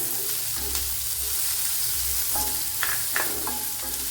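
A large onion drops into garlic, ginger and chili already frying for a brinjal dish. A steady close sizzle is broken by a few sharp stirring clatters over about four seconds.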